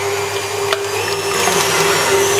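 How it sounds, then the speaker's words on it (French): Egg whites being whipped into stiff peaks with an electric mixer for a speculoos yule log, a loud steady motor whine that holds constant throughout. "On monte nos blancs en neige."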